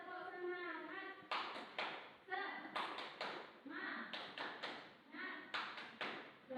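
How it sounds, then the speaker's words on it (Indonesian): A classroom of primary school children performs the 'tepuk semangat' clapping chant, with group voices chanting in bursts over sharp, rhythmic hand claps in a quick repeating pattern, close and lively. "Tepuknya, tepuk semangat."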